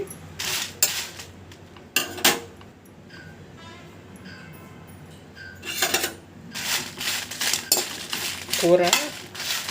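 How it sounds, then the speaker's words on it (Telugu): Sun-dried red chilies being fried in a pan, heard as bursts of metallic clinks and scraping from a spoon against the pan, with quieter gaps and a faint sizzle between, close by and without speech. "మిరపకాయలని ఇలా వేయించుకోండి."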